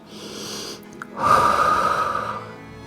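Steady breathing during a stretch in a cardio and dumbbell workout: a soft exhale, a short pause, then a longer, louder breath through the nose or mouth, close and alone.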